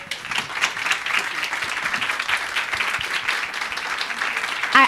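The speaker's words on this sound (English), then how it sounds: "can we give them a huge round of applause?" A standing audience at the Miss Soweto finalists empowerment event gives a round of applause, steady, moderately loud clapping with individual claps audible throughout.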